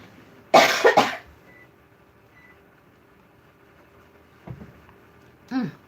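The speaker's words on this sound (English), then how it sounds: "Excuse me, I'm going to cough." A single person coughs hard in a quiet warm room, a loud burst of two or three rough coughs near the start, followed later by a softer throat sound and a short cough near the end.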